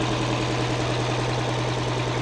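The diesel engine of an abandoned semi truck runs with a loud, steady, knocking idle close by. The rhythmic chugging stays even throughout, with no clear rise in revs and no talking.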